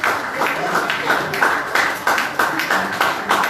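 A church congregation claps in a steady rhythmic beat while standing to acclaim the Lord at a worship service, dense repeated claps filling the space at close range with a faint voice underneath.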